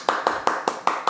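Six sharp hand claps in a steady, quick rhythm, close and fairly loud, each a crisp burst with a short tail.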